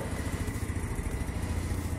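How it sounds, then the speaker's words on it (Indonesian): A Yamaha Mio Soul motorcycle engine running steadily at idle, close and moderately loud, with an even rumbling throb and no talk. "Untuk tenaga masih oke ya Apollo, mesin tidak ngasap."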